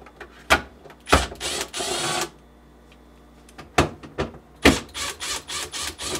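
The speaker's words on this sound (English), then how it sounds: "Remove the screws holding the side supports in place using a quarter-inch nut driver" Screws being backed out of the side supports inside a GE French door refrigerator with a quarter-inch nut driver: a series of short, sharp mechanical clicks and ratcheting bursts, some near and loud, separated by quiet gaps.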